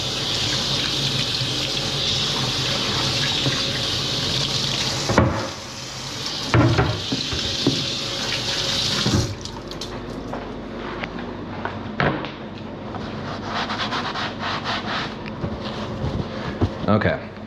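Cut potatoes are rinsed under a running kitchen tap, with a steady loud hiss of water that splashes and shifts as the potatoes are moved. Clunks and knocks from the sink come in partway through, and the flow quiets toward the end.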